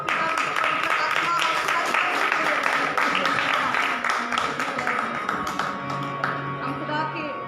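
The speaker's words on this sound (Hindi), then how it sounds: "एक बार जोरदार तालियां" Audience at a Christian church sermon clapping loudly and steadily in a dense, continuous patter, with a voice and a sustained tone running underneath.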